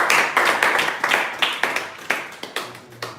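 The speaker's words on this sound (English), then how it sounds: "Please, let's clap for them once again." An audience claps at a leadership academy session, a steady burst of hand claps close by that thins out toward the end.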